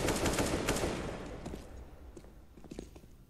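Automatic AK rifle fire in the video game Counter-Strike during a professional match between Astralis and Spirit, a loud dense burst of rapid shots that fades into scattered, sharper shots and distant clatter.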